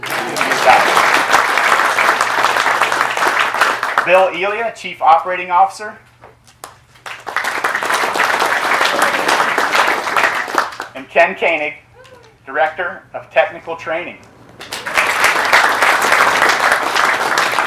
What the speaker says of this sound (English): He gets a special round of applause, right?